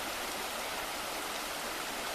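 Little Passage Creek flowing in the George Washington National Forest near Duncan Knob, a steady broadband rush of moving water, close and continuous, with no voices.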